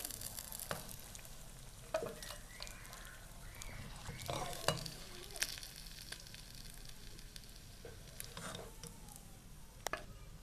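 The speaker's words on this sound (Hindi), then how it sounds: "अब हम इन्हें प्लेट में निकाल लेंगे और बाकी की भी फ्राई कर लेंगे" Fish pakoras deep fry in hot oil, a faint, steady crackling sizzle broken by occasional stirring scrapes and soft pops, heard close with no voices.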